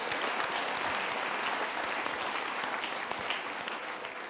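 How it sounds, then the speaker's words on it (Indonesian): A studio audience at a live motivational talk show applauds together, a steady, even roar of many hands clapping at moderate volume with no voices over it. "Kita berikan tepuk tangan dulu."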